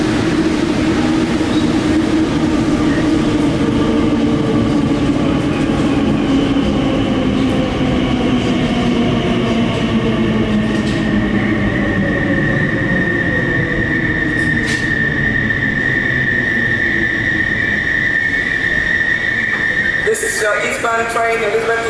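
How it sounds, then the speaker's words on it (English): A purple Class 345 Elizabeth Line train rumbles and squeals loudly as it pulls into Custom House station platform in London, pitch gliding as it slows, with a station announcement of the approaching eastbound train to Abbey Wood over the noise. "the eastbound train to Abbey Wood is approaching"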